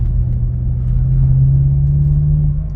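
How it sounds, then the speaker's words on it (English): A BMW M6 4.4 engine hums steadily with a thin, sustained gear whine riding over the low rumble, no talking. "I hear sort of gear whine,"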